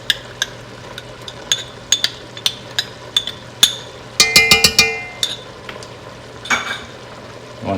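Sauce ingredients with chili paste being stirred together in a pot for eggplant rollatini: a string of sharp utensil clinks and scrapes against the vessel, with a rapid rattling burst midway, close and loud with no talking.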